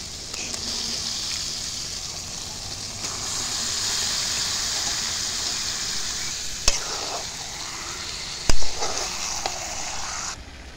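Meat added to fried spice paste sizzles in a pan with a loud, steady broadband hiss that rises as the pieces go in, broken by a couple of sharp knocks from the spoon.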